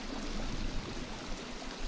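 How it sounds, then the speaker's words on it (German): A loud waterfall in the survival video game The Forest, a steady dense rush of falling water heard from somewhere out of sight, continuous and without any voices. "Auf jeden Fall einen lauten Wasserfall irgendwo, den ich nicht mal sehen kann."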